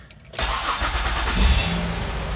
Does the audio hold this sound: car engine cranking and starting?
yes